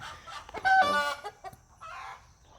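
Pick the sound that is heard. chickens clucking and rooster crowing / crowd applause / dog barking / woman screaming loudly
chickens clucking and rooster crowing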